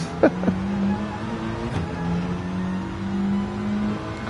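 A Mitsubishi Lancer Evo engine in Gran Turismo 7 holds a steady hum with a short rev blip at the start, then drones on at a constant pitch, close and moderately loud.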